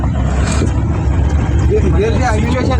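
A Tata Safari car driving with a learner at the wheel: a steady low engine and road rumble from inside the cabin, with people talking over it.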